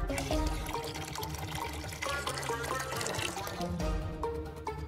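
Water pours into a LEGO Technic washing machine, a continuous, moderately loud splashing and filling sound with no talking.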